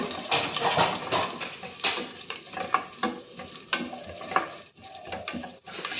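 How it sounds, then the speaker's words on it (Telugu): Mustard seeds, cumin and curry leaves crackle and pop in hot oil, a dense run of sharp spattering bursts over a steady sizzle, close and fairly loud, with no talk. "ఇవి బాగా వేగాలండి ఇలా చూస్తే మీరు ఇలా చిట్టపటలాడాలి"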